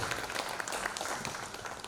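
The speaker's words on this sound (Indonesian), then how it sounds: "Tepuk tangan untuk Pak Teguh Nasrullah." Scattered, moderately quiet clapping from a gathered audience at a Bank Sumsel Babel event honoring a guest, a brief even patter with no distinct cheers.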